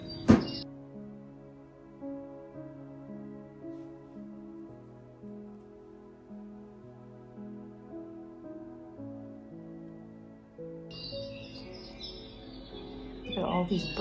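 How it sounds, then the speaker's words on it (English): Small decorative bird houses at an estate sale give off recorded chirping bird sounds alongside tonal chimes that run steadily and moderately loud throughout, with brief handling knocks at the start and end and no talk. "Look at all these bird houses. They've got these bird noises going on."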